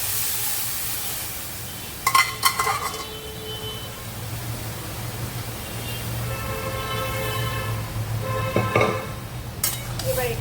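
Boiled dal and jackfruit tipped into a pan of well-fried spice paste, giving a steady low sizzle with clattering stirring bursts and scraping around a few moments, close and moderately loud with no talk.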